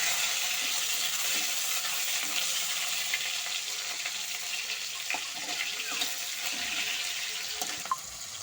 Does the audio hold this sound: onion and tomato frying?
yes